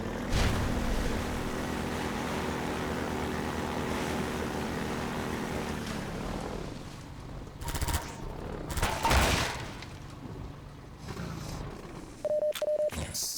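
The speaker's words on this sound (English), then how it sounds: "The little gun here almost has like a melodic tone to it." Small gun firing with a melodic tone in Half-Life 2, heard over a steady engine and water rumble, with several sharp shots and a brief tonal ring near the end.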